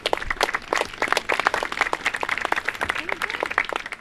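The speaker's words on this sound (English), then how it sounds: "Give them another round of applause." A crowd applauds the Oak Knoll girls' lacrosse team at a prep championship trophy presentation, with dense, uneven bursts of clapping throughout and voices talking underneath.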